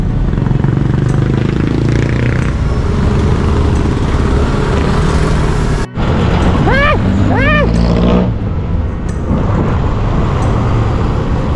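Steady roadway traffic rumbles near a public market, engines and tire noise from passing cars, buses and motorcycles, with a vehicle horn sounding briefly in the middle.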